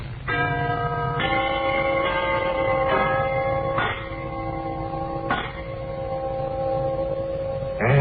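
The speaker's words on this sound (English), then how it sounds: "Will you press the button that sets off the chimes, please?" A set of chimes strikes several bell tones one after another, each ringing out and overlapping, with a steady resonant hum throughout.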